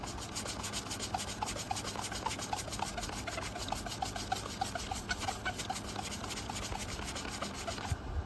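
Close, steady hand sanding of rusty metal on a bus with coarse 80-grit sandpaper, a continuous rhythmic scraping rasp of repeated strokes that runs the whole time without any talk.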